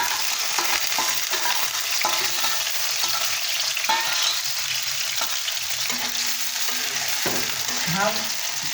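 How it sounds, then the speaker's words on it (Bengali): Onion and green chili sautéing in oil in a pan, a steady close sizzle with repeated spatula stirring and scraping knocks throughout. "ভাজা করবো না, একটু নরম করে দেবো পেঁয়াজ আর কাঁচামরিচ।"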